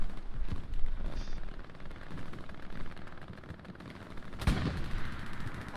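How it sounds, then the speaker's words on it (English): Booming tank cannon fire in the World War II shooter Hell Let Loose, with a few heavy distant thuds and one sharp close blast near the end over a constant battlefield rumble. "I just heard another tank firing at us."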